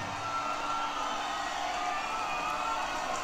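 A crowd cheers and whoops for beatboxer CODFISH at the Grand Beatbox SHOWCASE Battle 2018, a steady, dense wash of noise with no breaks for the full clip.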